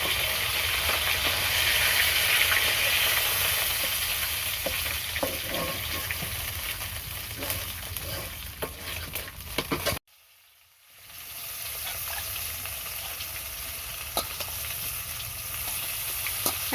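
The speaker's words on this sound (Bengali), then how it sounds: "মাছ ভাজা হয়ে গেছে" Fish sizzling and frying in a pan in a home kitchen, a loud continuous crackling hiss with occasional sharper pops, briefly cutting out before the sizzle resumes at similar strength.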